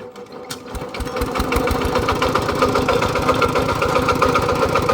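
A Toyota Vigo pickup's engine fires up and runs loudly close by, a steady rapid mechanical chatter and idle rumble filling the whole stretch after a brief start.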